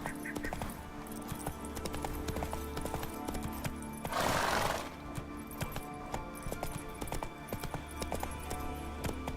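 Roach the horse galloping in The Witcher 3: Wild Hunt, a quick steady clip-clop of hooves with a burst of rushing noise midway, soft and continuous, with no voices.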